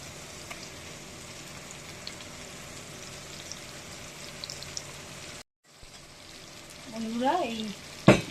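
Prawn head paste fries in hot oil with a soft, steady sizzle, broken by a brief silence and then a few clatters of a utensil. A voice is heard faintly near the end.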